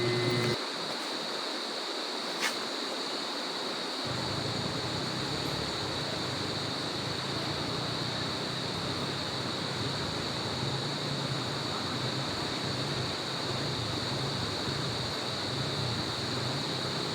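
A river flows beside a campsite on a motorcycle camping trip around Quezon, giving a steady, continuous rushing wash of water with no voices.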